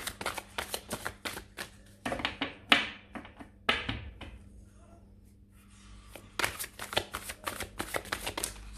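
Tarot cards being shuffled by hand during a French-language horoscope reading, a run of quick papery riffles and taps in bursts with a pause midway, close and clear with no talking.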